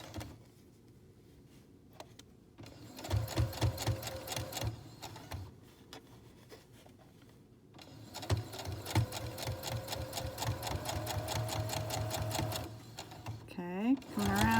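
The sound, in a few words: sewing machine stitching fabric face mask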